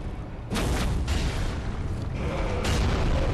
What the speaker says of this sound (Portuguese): Eu vou dar um tiro com esse aqui primeiro.